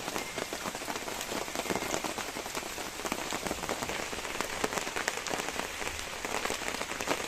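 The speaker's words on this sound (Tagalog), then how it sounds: "Ayan ang lakas po ng ulan." A steady, dense roar of heavy rain pounding on surfaces on a mountain, loud and continuous with no voices.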